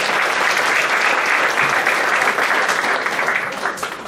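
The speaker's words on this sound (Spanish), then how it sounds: "Un aplauso para el Señor." A church congregation applauding together, dense sustained clapping that fills the whole stretch and thins slightly toward the end.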